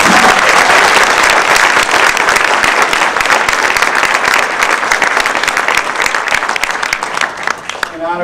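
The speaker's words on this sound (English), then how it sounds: "I'd like to read a round of applause for tonight's honorees" Loud, sustained applause from an audience for honorees at a Maryland Women's Hall of Fame event, clapping steadily before gradually thinning out at the end.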